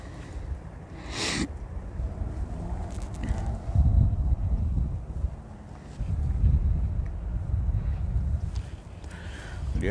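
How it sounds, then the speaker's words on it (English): Outdoor wind buffets the microphone in loud, rumbling gusts that rise and fall across the whole stretch during a fishing trip, with a brief sharp noise near the start. "I just hope you can hear me from all this wind."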